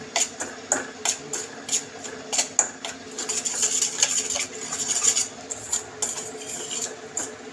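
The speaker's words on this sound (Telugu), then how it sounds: "ఇట్లా కాలిపోతాయి కదా ఇట్లా మనం కలుపుతూ ఉండాలి" A spoon scraping and clattering against a pan while a milk mixture for homemade Dairy Milk chocolate is stirred, in steady rhythmic strokes that go on throughout, with no talk.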